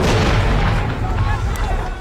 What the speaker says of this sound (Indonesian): Terdengar ledakan dari truk tadi serta menimbulkan asap tebal.